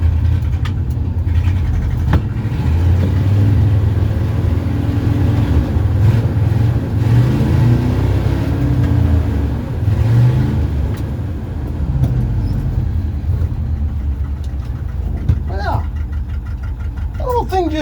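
An old tractor engine, not yet warmed up, chugs steadily at low revs outdoors, close and loud with an uneven rumbling rhythm throughout.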